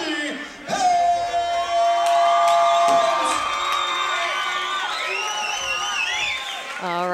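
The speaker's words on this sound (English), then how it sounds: "Ladies and gentlemen, scream for Toby Helms!" A crowd at a fight event screams, whoops and cheers loudly for a fighter's entrance, a dense sustained roar with shrill individual yells, over music and an amplified announcer voice at the start.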